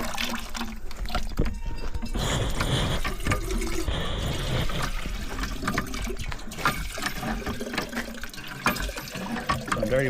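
Water splashes and trickles into a container during a stop on a Florida forest hiking trail along the Choctawhatchee River, running steadily and close by for several seconds with no talk over it.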